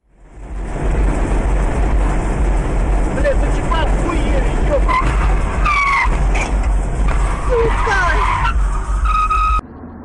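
A car skids loudly on a road, tires squealing in a sustained screech through most of the scene, with people speaking over it.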